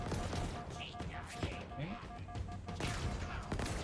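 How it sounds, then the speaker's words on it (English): Rapid hand cannon gunfire in a video game, a dense, loud fusillade of shots and impacts running continuously through the clip with brief crashes, a voice faintly present underneath. "Look at the hand cannon."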